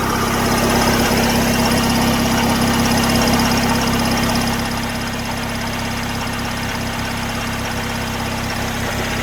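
Car engine idling after a new exhaust gasket and O2 sensor were fitted, a steady, even rumble with a constant hum that drops slightly in level partway through, with no voices.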